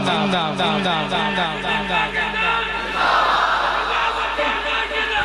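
A religious conference crowd shouts back in unison to a slogan, loud massed voices in rhythmic bursts, building to a fuller roar partway through and staying dense to the end.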